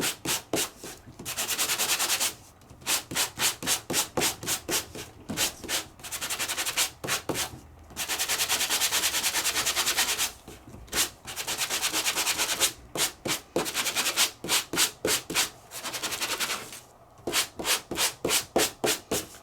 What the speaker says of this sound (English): So I could sand it, and my happy birthday comes through.